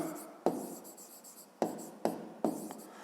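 Chalk or a marker writes a division problem on a board for a fifth-grade maths lesson, a few sharp taps followed by scratchy strokes, close and fairly quiet, with no talking.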